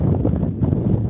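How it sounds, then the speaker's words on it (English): Wind blowing outdoors over land being cleared, a brief loud low rumble of gusts buffeting close by, with no voices. "Wind's blowing again"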